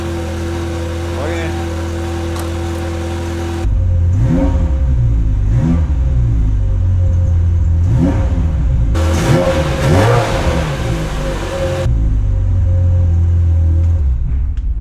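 A Ferrari F355 engine idles and revs loudly up close, with several rising throttle blips over a steady low rumble; it is quieter at first, then louder from about four seconds on.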